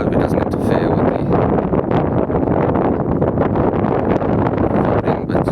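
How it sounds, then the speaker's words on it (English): Strong wind buffets the microphone continuously at a birding spot on the Ria de Alvor estuary near Portimão, Portugal, a loud, rough, unbroken rumble with no other sounds standing out. "The wind's building up a little bit now. Hope it doesn't interfere with the"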